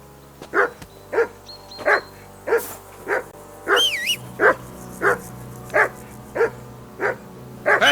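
A dog barks in the medieval video game Kingdom Come: Deliverance II, a run of about a dozen evenly spaced, loud, close woofs with brief whimpering tones between some barks.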